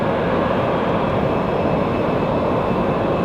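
A Boeing 767 departing Raleigh Durham International Airport gives off a constant, powerful jet engine roar, dense and unbroken from start to finish with no voices over it.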